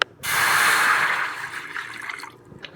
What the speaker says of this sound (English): pour the water like this.